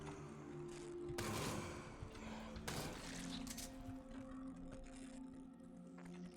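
Submachine gun bursts in the sci-fi shooter Jupiter Hell, two sharp rattling volleys over a low droning game soundtrack, fairly faint in the mix.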